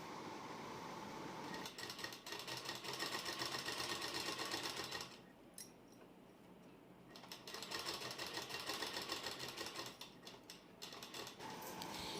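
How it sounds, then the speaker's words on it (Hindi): A sewing machine stitches a baby suit in fast, steady mechanical runs. It pauses briefly midway, then carries on running, close and fairly quiet. "अब मैं इसके ऊपर भी एक सिलाई लगा दूंगी।"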